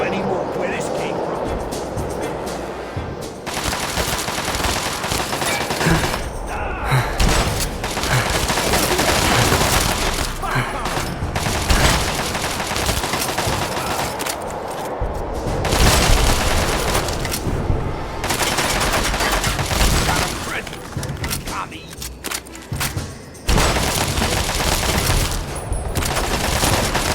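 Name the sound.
gunfire in Fallout Tale of Two Wastelands video game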